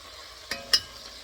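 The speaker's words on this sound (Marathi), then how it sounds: "हा छान फ्राय करून घ्यायचा आहे." Ground spice masala of turmeric, coriander, cumin, garam masala and chilli fries in oil for whole masoor usal, a faint low sizzle broken by two brief stirring clicks.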